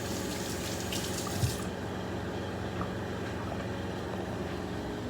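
Running water splashes steadily from a tap as a salt-rubbed vegetable is washed by hand, a continuous close rush with a few brief handling knocks and no talk.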